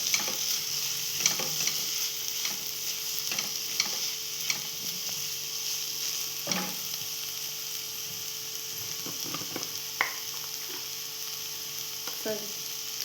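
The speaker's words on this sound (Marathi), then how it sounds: "आता आपण त्यात टाकणार कोथिंबीर आणि एकत्र करून घेऊ आपण" Chopped coriander is mixed into a sweet-sour chutney with fresh grated coconut, producing close, scattered scraping and clinking stirring strokes against a faint background hiss.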